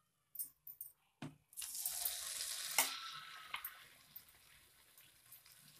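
Battered mushroom pakoda pieces are dropped into hot oil. A few soft knocks come first, then a loud, continuous frothy sizzle that slowly fades.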